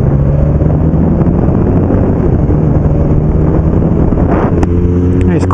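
Steady roar of a BMW K1200S motorcycle on the road, its engine drone blended with heavy wind buffeting from a low screen, continuous and loud throughout with a faint voice underneath.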